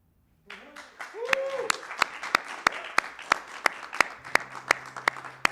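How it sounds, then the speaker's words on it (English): A studio audience at a live radio show in a barn setting breaks into applause, with a voice briefly heard at the start, then settles into regular, evenly spaced sharp claps that continue in a steady rhythm. "I like the sound of all that clapping."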